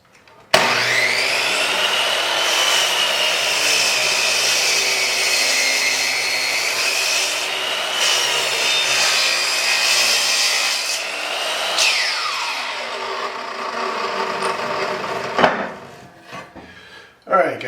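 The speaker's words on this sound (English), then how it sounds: "first stop is going to be the compound sliding miter saw to buck this down to" Compound sliding miter saw cutting a lumber board: a loud high whine spins up sharply, holds steady through the cut, then winds down, followed by a few knocks and clatters as the wood is handled.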